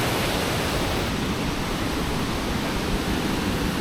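Artificial waterfall in Munich's English Garden, a steady, loud, broadband rush of falling water filling the whole scene with no let-up and no voices.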